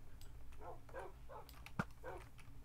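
A dog in the Minecraft video game whimpers and yips in several short, faint bursts as it is hit. A single sharp click sounds partway through, over a quiet background.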